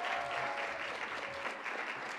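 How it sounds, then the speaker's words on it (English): An audience at a Jackie Robinson Foundation event breaks into sustained applause, a dense, even wash of clapping from many hands that holds steady throughout, moderately distant and alone. "Give a round of applause to Rayshawn Payton."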